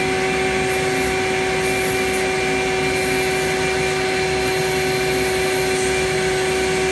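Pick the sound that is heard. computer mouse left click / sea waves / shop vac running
shop vac running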